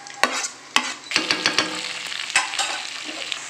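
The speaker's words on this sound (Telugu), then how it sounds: "ఇలా మామిడి తురుముని వేసుకొని వేయించుకున్నాం." Grated raw mango frying in a pan, with a spatula scraping and stirring in repeated sharp strokes over a continuous close sizzle, no voices.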